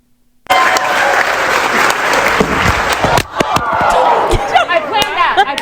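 After a comedian tumbles off a stage in Omaha, Nebraska, a live comedy crowd bursts into sudden loud applause and shouting. Claps and a few sharp thuds run under the roar, which dips briefly before surging again, with chatter mixed in.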